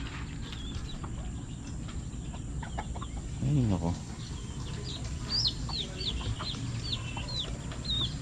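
Chickens clucking on a farm with a black rooster among them, steady low clucks and brief calls against continuous outdoor background noise, birds chirping faintly, and someone speaking briefly.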